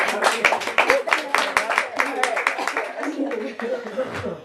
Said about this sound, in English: Can I get a round of applause for Mylo?